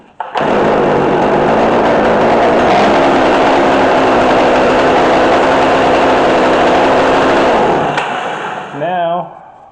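A McCulloch Mac3216 32cc chainsaw with a 16-inch bar idles too high, a loud, steady, buzzing two-stroke drone held for several seconds before it drops away and a voice speaks briefly at the end.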